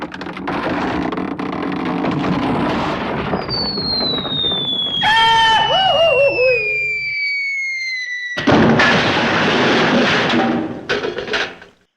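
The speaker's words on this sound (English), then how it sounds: "The diving board broke and Alfredo missed the tank and hit the floor" A diving board breaks and a man hits the floor in a comedy scene, heard as a loud sustained crash followed by a falling whistle and a bouncing boing, a short silence, then a heavy clattering crash.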